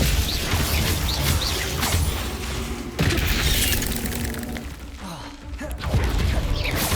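Spell explosions burst one after another in the Hogwarts Legacy video game, loud booms and crashes layered over continuous rumbling combat noise with a sharp impact near the midpoint.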